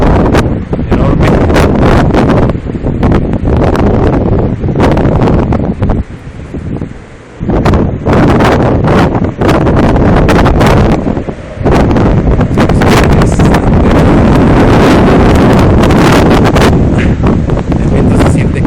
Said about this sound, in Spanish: El viento se siente cada vez más fuerte. Escucha el árbol.